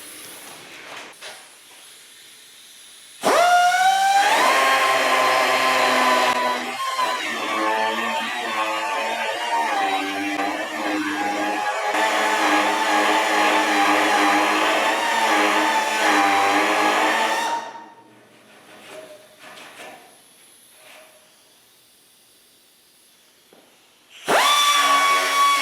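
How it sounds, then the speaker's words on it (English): Rotary file enlarging a hole in a 1969 Mustang fender, a close, loud grinding whir in two long bursts with brief pitch dips between, then a pause before another short burst. "Again, little rotary file."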